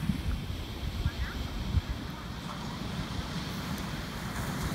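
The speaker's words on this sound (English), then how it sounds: "The wind's blowing." Steady wind blows at an uncrowded beach, with low broadband rumble and gusty buffeting across the microphone and a faint wash of surf beneath; a voice speaks faintly in places.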